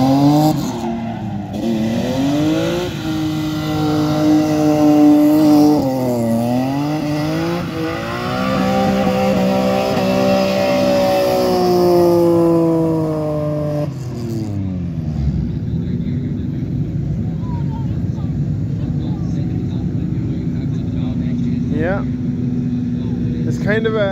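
BMW and Skyline cars drifting on a figure-eight track, loud revving engines rising and falling with tire squeal, then a steadier distant rumble as cars pass.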